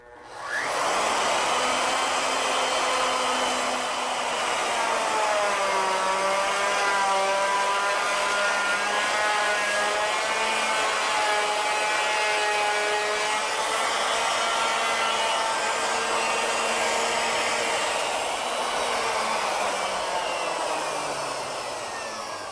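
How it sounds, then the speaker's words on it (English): A router bit cuts into the side of a wooden workpiece as the piece is turned clockwise. It gives a loud, continuous motor whine whose pitch shifts slightly as the cut progresses, with no talking. "Now we're ready to rotate the workpiece in a clockwise direction into the side of the router bit"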